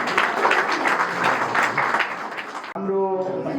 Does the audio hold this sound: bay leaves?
no